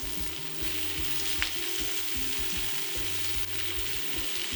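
Peppers frying with softened onions in a pan, a dense, even sizzle that stays loud throughout, with a faint scrape or two of stirring and no talking.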